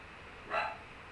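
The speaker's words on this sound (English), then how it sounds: "I don't know why that dog barking." A small dog gives a single short bark somewhere in the distance, faint against a steady indoor background hum.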